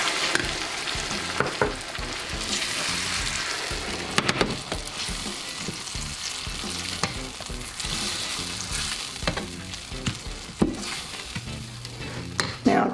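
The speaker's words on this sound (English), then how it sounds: "I'm going to add it to the onions and warm it up a little bit." Cold cottage cheese and onions sizzle and fry steadily in a pan, with clinks and scrapes from stirring breaking through the constant crackling hiss, close and loud, with no speech.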